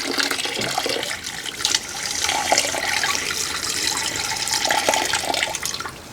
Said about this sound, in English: So you put all the sap in there. Now, watch, it's gonna really gush.